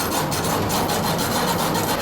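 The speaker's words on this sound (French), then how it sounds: "Voici ta scie à métaux" Continuous harsh rasping of a hacksaw working back and forth on a metal chain, close and steady with a dense gritty texture throughout.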